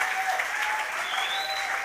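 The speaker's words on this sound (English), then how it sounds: "please, let everybody clap for them" Steady, dense applause from an audience at the launch of a fellowship program, clapping for team members and coding mentors, continuous and fairly close throughout with a faint whistle-like tone riding above.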